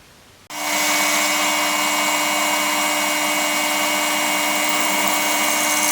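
Power drill boring holes in metal airgun target paddles, starting abruptly and running as one steady, loud, continuous whine with no pauses.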